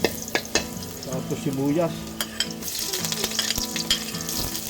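Squid, garlic and onion sizzle in hot oil in a pan, a continuous close frying hiss with stirring clatters and utensil taps, while a person speaks briefly over it.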